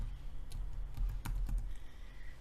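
A computer keyboard is typed on at close range as a layer name is entered, several crisp key clicks in a quick irregular run over a low background hum, with no talking.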